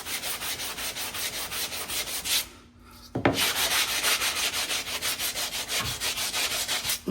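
Car body paint on a 1972 Buick Skylark being wet-or-dry sanded with 220-grit paper: steady rhythmic rubbing strokes, close and loud, with one brief pause midway before the scraping resumes.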